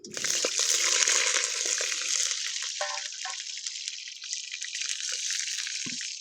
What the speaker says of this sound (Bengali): তেল গরম হয়ে গেছে, এবার আলুগুলো আমরা প্রথমে ভেজে নেব।